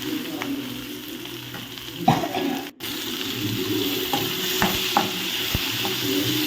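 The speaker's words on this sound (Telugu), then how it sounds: "ఇప్పుడు అంతా మంచిగా అయితే వేయించుకోవాలి" Bottle gourd and moong dal frying in a pan, a steady close sizzle broken by scattered spoon clinks and stirring scrapes, with a brief dropout midway and trickling water nearby.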